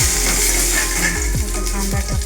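Curry leaves dropped into hot oil with mustard seeds, heard as a loud, crackling sizzle with rapid popping and spattering, close and with no talking.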